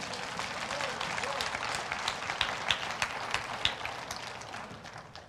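A church congregation gives a clap offering to the Lord: dense, steady applause from many hands fills the space throughout, with a few louder claps standing out near the end.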